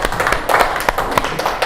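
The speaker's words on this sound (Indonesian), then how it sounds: "Tepuk tangan semuanya buat Sela." Classroom applause for a student: a brief burst of scattered, uneven hand claps from a group, moderately loud and close, with no speech over it.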